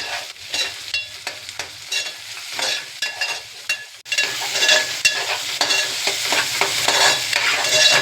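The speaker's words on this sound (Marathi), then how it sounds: "हे पण दोन टमाटर मी बारीक कापलेले घेतले आहेत लहान मिडियम साईजचे दोन टमाटर आहेत ते पण चांगले भाजून घेऊया" Finely chopped tomatoes fry with onion in a pan while being stirred, a close sizzle broken by rhythmic scraping strokes that grows fuller and louder partway through.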